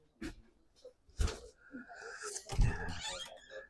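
A dog growls and snorts in close, rough bursts, with three louder surges about a second apart mixed with breathy, wheezing noise indoors.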